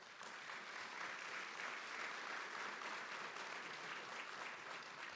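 Sustained audience applause fills the room after a speech at a panel event on the U.S. global role, a dense, steady wash of many hands clapping at even loudness throughout, with no voices over it.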